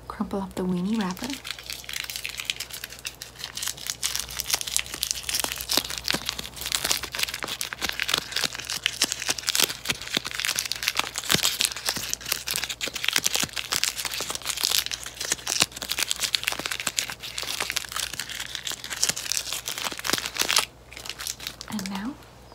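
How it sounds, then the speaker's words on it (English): Close, crisp crinkling and crushing of a wrapper in a quiet ASMR nurse-and-doctor role-play, a dense continuous crackle lasting about twenty seconds, with brief soft speech at the start and end. "Crumple up the weenie wrapper."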